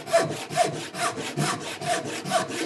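A hand saw cuts a wooden board for a square-leg Craftsman table, following its kerf at a steep angle. Brisk, even rasping strokes repeat about twice a second, close and clear with no voices.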